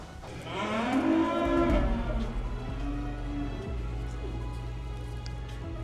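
Cattle on a Japanese Wagyu beef farm give a long, loud, close moo that swells and then trails off, followed by quieter lowing over a steady background hiss.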